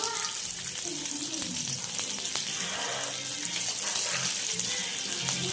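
Large green chillies and curry leaves fry for kande pohe, giving a dense, even sizzle with soft scattered pops and low clanks, close and steady for a few seconds without speech.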